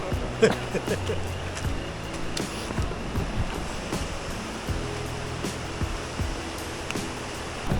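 River water rushes along the bank of the Rishikhola in Sikkim, a constant broad roar with occasional louder surges close by.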